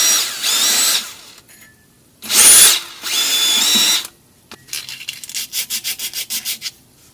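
Power tool scrubbing the mating surface of a brake rotor hub on a Porsche 928 during axle work, three loud sustained bursts, then a run of about ten short rhythmic pulses, close up with no talking.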